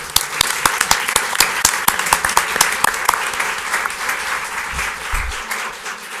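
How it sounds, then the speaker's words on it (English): Sustained audience applause for candidates at a League of Women Voters forum: dense, steady clapping from a room full of people, with distinct individual claps standing out before it thins slightly toward the end. "Please join me in a round of applause."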